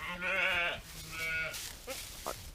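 A ewe bleats at lambing time on a sheep farm: two loud, wavering calls back to back, then a couple of shorter, quieter bleats or grunts close by.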